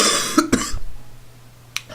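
A man coughs several times in quick, close bursts, followed by quieter breathy throat sounds and a low steady hum behind.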